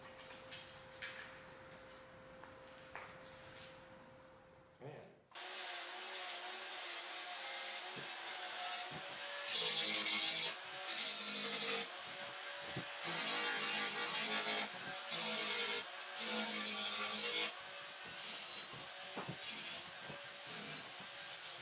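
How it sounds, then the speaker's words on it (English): After a quieter start, a power sander starts up and runs steadily with a high whine and gritty scraping during rough sanding of wood, close and loud. "we'll just do a bit of a rough sanding on that"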